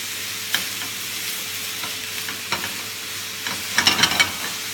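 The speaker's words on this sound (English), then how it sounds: "Move it around, chop it up," Beef mince fries in butter in a pan and is stirred and chopped, with a continuous low sizzle broken by sharp spatula scrapes and clacks that cluster near the end; no one speaks.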